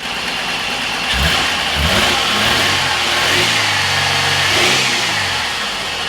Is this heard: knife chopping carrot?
no